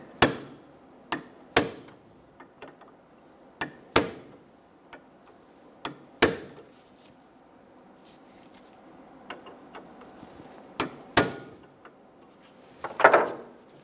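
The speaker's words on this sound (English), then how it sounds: "Using a punch, remove the pin in the bottom of the shaft." A punch is struck with a hammer to drive the pin from a distributor shaft clamped in a vise on a 1988-1999 GMC K1500 5.7L V8, giving sharp, irregularly spaced metallic taps, some louder than others, in a quiet room.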